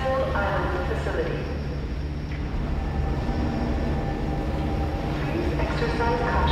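Train pulling into a station in the video game F.E.A.R. 2: Project Origin, a steady broadband rumble of wheels and carriage with faint tonal whine, continuous at moderate level while a voice speaks over it.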